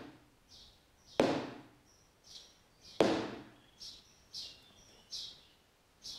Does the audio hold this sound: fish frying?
no